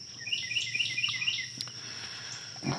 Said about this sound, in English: As you can hear, those birds are just going bonkers out there.